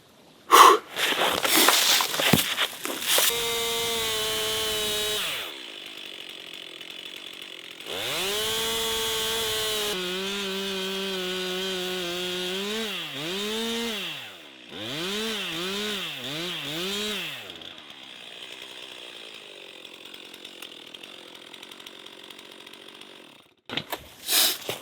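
Chainsaw cutting through firewood, loud and close, with several bursts of the engine bogging and revving as the chain bites into the logs, a dull chain working through tough wood, and short pauses between cuts.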